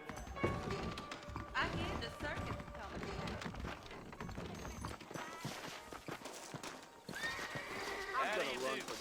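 Saddled horses in Red Dead Redemption whinny loudly several times and clop their hooves in a steady walking rhythm close by, with talk in between.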